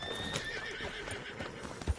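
A horse in Red Dead Redemption 2 gallops with quick hoof clip-clops and a whinny, close and clear over a brief stretch.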